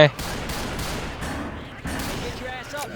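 Gunfire from the US Ranger mod in Left 4 Dead 2 rattles in quick repeated bursts, sharp and close, with game noise between volleys and a softer tail at the end.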